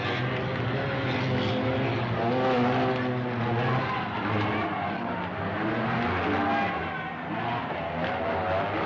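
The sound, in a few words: speedway motorcycles racing around track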